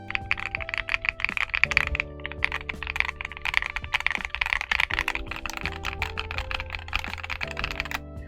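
Typing on a GMK61 keyboard fitted with MMD Honey switches, a steady run of close, crisp, slightly clacky keystrokes with no talking.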